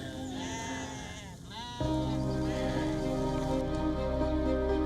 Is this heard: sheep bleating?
yes